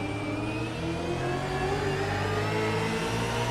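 A race car engine in the iRacing simulator at Road Atlanta, heard onboard as a steady rising throttle note with layered harmonics, loud and continuous without voices.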